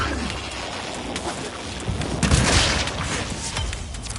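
An explosion in Warframe rumbles up midway as a deep, noisy burst over a hissing, rain-like background, then settles back into steady low ambience.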